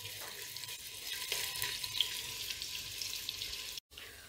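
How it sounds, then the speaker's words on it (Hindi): Onions fry in a pan with a steady close sizzle that runs unbroken for about four seconds, drops out briefly, then resumes. "इसको मैं थोड़ा पिंक होने तक भून लूंगी"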